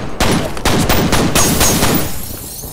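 Rapid gunfire from the first-person shooter game F.E.A.R., several loud close shots in quick bursts with sharp cracks, continuing steadily for a few seconds before tailing off.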